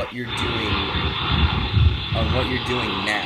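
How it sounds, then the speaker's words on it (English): An airplane passes overhead near Hickam Air Force Base, a steady broad engine rumble sitting under close conversational speech throughout. "It sounds like there's a plane going over here somewhere."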